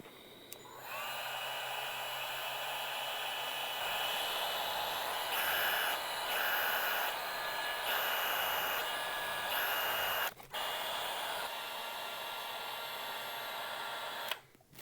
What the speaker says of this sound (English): So I picked up this battery-powered Milwaukee heat gun.